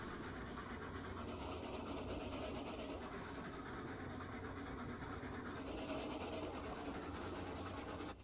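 A steam locomotive rolls steadily along the track in Railroads Online, a continuous low rumble with faint rhythmic clatter and hiss throughout.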